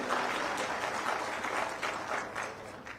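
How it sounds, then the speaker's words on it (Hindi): An audience at a PM Kisan farmers' festival event claps steadily. The applause is moderately faint and continuous over three seconds, with no speech over it. "ताली बजाओ कर खातिर।"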